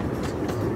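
A steam train runs along the rails with a steady low rumble and faint clickety-clack of the cars, continuous and fairly close, with no talking.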